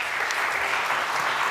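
Audience applause at a livestreamed startup pitch event, a brief, dense burst of clapping that holds steady throughout.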